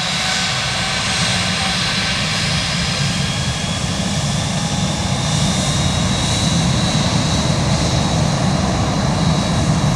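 A loud, steady roar of aircraft engines on a runway at Tampa rolls on without pause, close by and constant.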